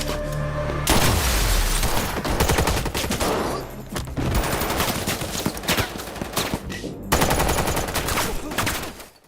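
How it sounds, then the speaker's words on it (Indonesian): Gunfire from a police shootout scene in the 2022 film Memory rattles in dense, loud volleys of rapid shots and bursts, with short gaps between the barrages and no talking. "Alex menyerang para polisi dan aksi tembak-tembakan pun terjadi."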